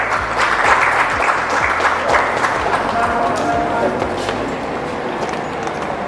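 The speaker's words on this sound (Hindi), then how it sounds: "तालियों के साथ स्वागत करें डॉक्टर पटनायक का" An audience at the Lalit Kala Akademi's 67th Foundation Day ceremony applauds to welcome Dr. Patnaik. A loud, sustained wash of clapping fills the hall and slowly eases, with faint voices mixed in.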